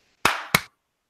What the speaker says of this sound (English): You ready for a clap check?